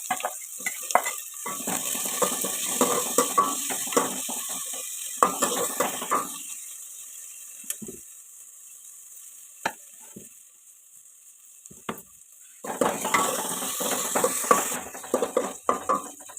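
Chopped vegetables, including long beans, cook in a pan on a gas stove in an Assam village kitchen, with bursts of sizzling and stirring clatter separated by quiet stretches and sharp utensil knocks against a faint hiss.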